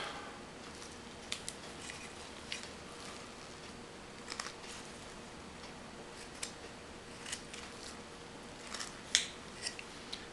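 A knife carves a soft white pine figure, producing faint, scattered snicks and small cutting clicks at irregular intervals against a quiet background with no talking.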